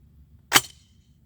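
A single shotgun shot cracks out sharply, loud and close, fired during a function test, then fades quickly into near silence.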